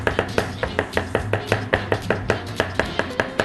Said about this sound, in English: The tarragon you want to chop a little finer than the parsley.